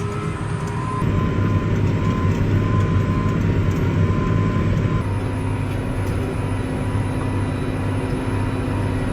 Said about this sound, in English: The tractor is really having to work. I don't know if you can hear that.